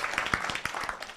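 An audience at a peace forum talk concert in Washington claps, a short burst of close, distinct hand claps with irregular rhythm, moderately loud with no voices over it.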